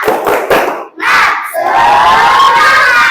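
A fifth-grade class does a spirit clap: a few quick claps, then the children shout together in a loud, rising cheer that carries to the end.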